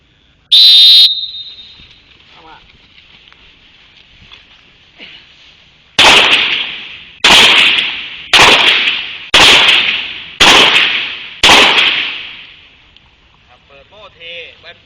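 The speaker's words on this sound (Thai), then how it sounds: "แสดงว่ากระสุนหนึ่งนัดจะใช้เวลาแค่ประมาณวินาทีเดียวนะ ในการยิง" During practice on a TRC shooting system, a sharp whistle sounds first, then six loud, close gunshots crack out about one second apart, each with a short echoing tail.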